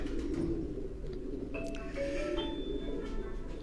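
Asil high-flying pigeons coo softly and briefly over a steady low background rumble, faint and somewhat distant, with no clear talking.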